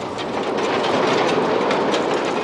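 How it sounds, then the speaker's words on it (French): A vintage steam locomotive pulls its train at a reduced, sightseeing pace, a dense, continuous rolling rumble with clattering wheel noise, close and fairly loud, with no voices. "on peut rouler jusqu'à 25 ou 30 km/h avec une locomotive comme ça"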